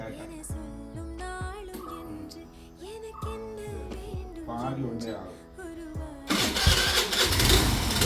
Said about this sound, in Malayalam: പിന്നെ കിക്കർ അടിച്ച് കഴിഞ്ഞാൽ ഇപ്പോൾ സ്റ്റാർട്ടാകത്തുള്ളൂ